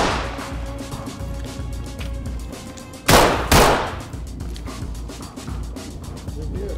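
A non-lethal pepper gun fires twice in the tactical police shooter Ready or Not, two sharp, loud bursts half a second apart standing out over steady background noise.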